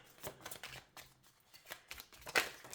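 Tarot cards are shuffled by hand in a quiet room, a series of soft, quick riffling and sliding bursts at close range, irregular in rhythm, with no talking over them.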